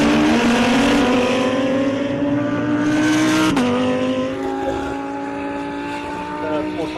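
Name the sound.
V8 Supercar racing, Ford Mustang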